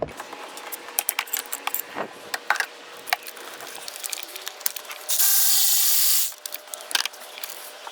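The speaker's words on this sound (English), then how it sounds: "With my 1/2-inch pipe, I'm going to extend my ratchet, give it more leverage." A ratchet extended with a 1/2-inch pipe loosening a starter bolt on a 2007 Nissan Versa: scattered sharp metallic clicks and clanks, close by, with a burst of hissing spray in the middle.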